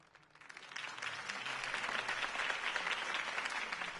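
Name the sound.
applause after a campaign speech, from a video game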